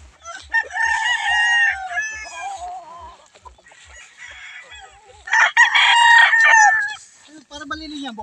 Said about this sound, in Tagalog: ang dami pong mga alagang manok dito